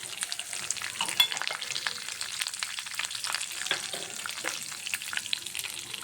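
Peanuts and mustard seeds frying in hot oil give off a steady, close crackling sizzle with scattered sharp pops throughout, and no voices.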